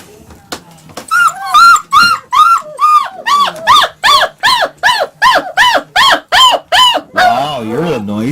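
A German Shepherd puppy whimpers and yips in a long run of high, rhythmic cries close by, ending in a softer whine.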